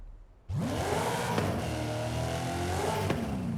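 After a short quiet start, a V8 engine in a Nissan Silvia S14 drag car in Forza Horizon 5 roars into life and revs hard, its pitch sweeping up and down in rising surges, loud and close.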